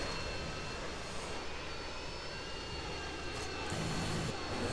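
A Harrier jet from Modern Warfare 2 roars overhead, a loud, continuous engine rush that swells slightly toward the end, with no talking.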